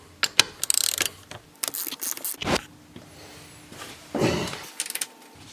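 Ratchet wrench clicking out a front seat bolt in a 2020 BMW X3M Competition, with close, sharp bursts of rapid pawl clicks separated by short pauses and soft handling noises.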